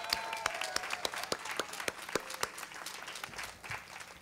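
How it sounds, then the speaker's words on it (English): Applause from an audience at a community celebration for El Centro de la Raza, a steady wash of many hands clapping with sharp individual claps standing out, moderately distant and continuing throughout. "Let's give them a round of applause."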